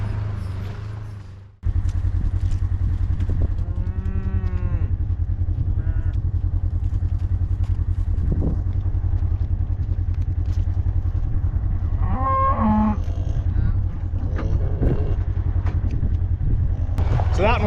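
Protective mother beef cows moo loudly and repeatedly near a calf, several drawn-out calls over steady low outdoor rumble and clatter.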